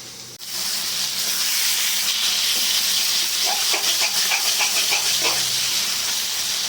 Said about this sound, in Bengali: আলু দিয়ে ভেজে নিলাম